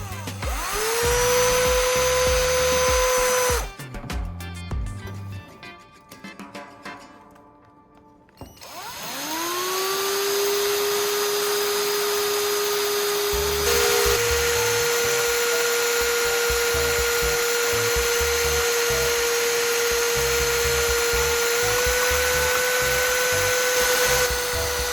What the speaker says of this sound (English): I turn on the drill and start stirring